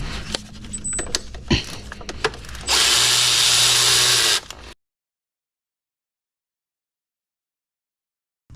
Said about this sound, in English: Next, we'll remove the upper alternator bolt.